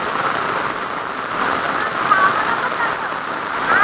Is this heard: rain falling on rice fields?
yes